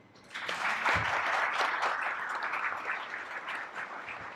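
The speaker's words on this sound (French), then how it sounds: "Applaudissez le Carl Henri lauréat du prix Poésie là-bas." Sustained audience applause at a poetry prize award ceremony held in a hall, a dense wash of clapping that swells in quickly and holds steady, fading slightly toward the end.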